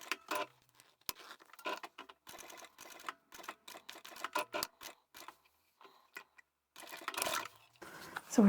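A sewing machine stitches zipper tape on a leather or vinyl pouch in quick bursts, its rapid clicking needle starting and stopping repeatedly with short pauses between runs.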